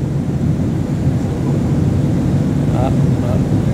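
Steady, loud engine roar inside an airplane cabin just after takeoff, a constant low drone filling the space with faint murmurs of talk beneath it.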